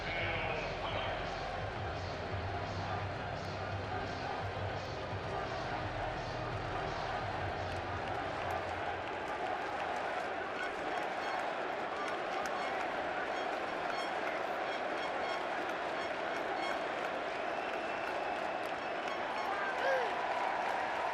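A baseball stadium crowd at the World Baseball Classic applauds and cheers, sustained, broad clapping and crowd noise that continues throughout, with commentators talking over it.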